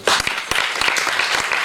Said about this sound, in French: Je crois qu'on peut encore applaudir Stéphane et toute son équipe.